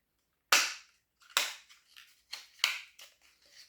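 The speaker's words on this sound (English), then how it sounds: "I'm just opening up the paper packaging because, you know, why not?" Paper packaging from a makeup mystery box is torn and opened, several sharp, loud close rips and crinkles spaced irregularly, with no talking.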